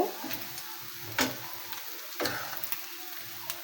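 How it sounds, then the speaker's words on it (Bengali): Small fish frying in a pan over a gas flame in a village kitchen: a faint, steady sizzle with a few sharp pops and ticks scattered through it. "আমার মাছ ভাজা হয়ে গেল দুই পাশে এই যে লাল লাল হয়ে গেছে"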